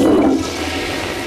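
Toilet flushing loudly and close by, an initial gurgling rush that settles into a steady hiss of draining water.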